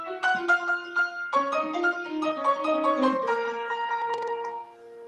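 Piano playing a melody in layered, chordal voicings that imitate a choir, sustained notes overlapping and blending into a dense, ringing texture that fades out at the end.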